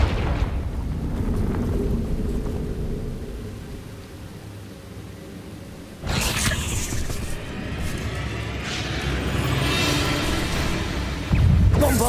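Blasting spell explosion in the Hogwarts Legacy video game, near a mine: a sustained noisy rumble that drops, then a loud burst about halfway through, followed by a continuing roar and crackle, with no talk.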